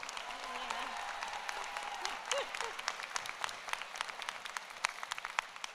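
Audience applause at a medical school convocation ceremony, a steady wash of many hands clapping through the room, with a voice briefly heard over the crowd partway through.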